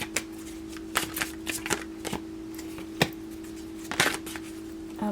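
Tarot cards being shuffled by hand, a series of crisp riffling flicks and slaps at irregular intervals over a low steady hum, close and fairly loud, with no talk.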